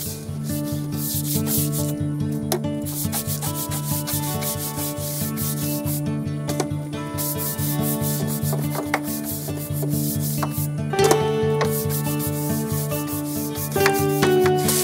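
A stiff brush scrubs a wooden deck handrail in quick, repeated back-and-forth rasping strokes, loud and close, continuing steadily without pause and with no voices.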